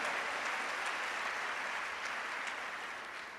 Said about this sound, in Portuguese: Você quer aplaudir Jesus? Pode aplaudir.